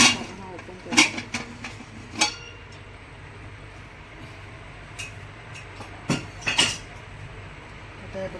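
A pressure cooker holding chicken is opened after cooling, with a few sharp metallic clanks and scrapes of the lid against the pot over a low background hum.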